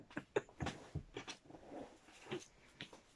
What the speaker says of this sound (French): Terrible ce chat.